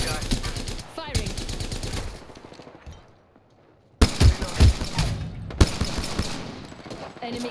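Rapid bursts of video game gunfire crackle in loud volleys, broken by a short quiet stretch before more shots, with game voices talking over the action.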